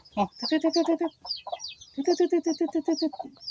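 A mother hen clucks in rapid, close rhythmic bursts beside her lone remaining chick, with faint high chirps mixed in.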